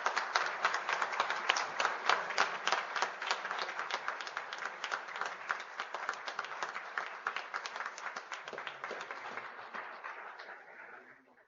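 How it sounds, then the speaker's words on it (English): An audience at a medicine department awards day claps steadily, individual hand claps distinct in a moderately sized room, gradually tapering and fading out at the end. "Let's give them a big round of applause."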